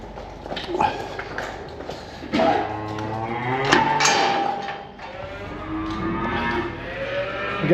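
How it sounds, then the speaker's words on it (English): Springing heifers mooing inside a farm shed, several long, loud, overlapping lowing calls close by over a constant shuffling barn background. "Springing heifers."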